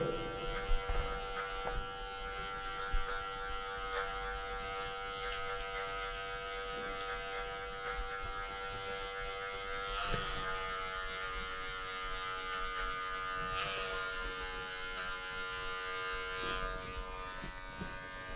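A hair clipper with a closed number 1 guard buzzes steadily while cutting a taper fade, a close, continuous electric hum with slight shifts in pitch as it moves through hair.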